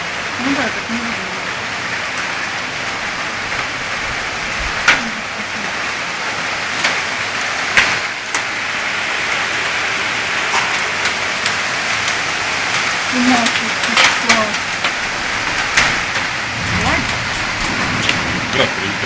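Hail and rain pelt down during a storm in Moscow, a steady hissing patter with scattered sharper impacts rising and falling over about twenty seconds, heard from a window.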